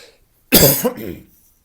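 A single sharp cough bursts out close to the microphone, followed by a brief raspy tail, with silence around it.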